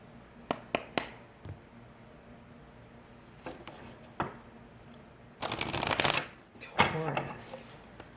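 Tarot cards being shuffled by hand: soft riffling bursts and taps at the start, then a louder, longer flurry of shuffling in the second half, close and quiet with no talk.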